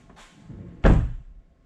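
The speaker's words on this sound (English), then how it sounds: "This door closes way nice." A Corvette car door swings shut with a single solid thunk, close and fairly loud, preceded by a soft rustle of movement and fading quickly into quiet.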